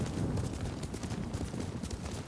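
Horse hooves clip-clop steadily on the ground while a rider travels on horseback in the samurai video game Ghost of Tsushima, a dense, continuous rhythm of close hoof strikes with no voices.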